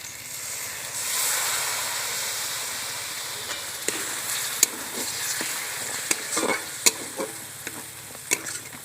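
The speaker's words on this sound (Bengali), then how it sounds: "ফেটিয়ে রাখা টক দই দিয়ে দিচ্ছি।" Whisked sour yogurt going into chicken frying in a pan raises a loud hiss and sizzle, followed by steady frying and a run of sharp spatula taps and scrapes, close by.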